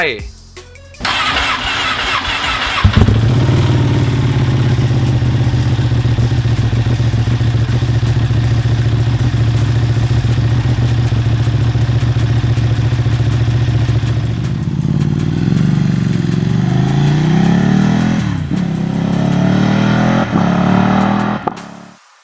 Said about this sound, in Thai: มันค ือยูกติพานิกาเล่1199